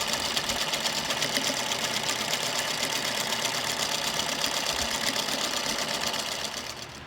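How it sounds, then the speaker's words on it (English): A sewing machine stitches a skirt seam being upcycled, running in a steady, fast, close-up mechanical whir that fades slightly at the end. "You can just drop the presser feet, line it up with your guide, and start stitching."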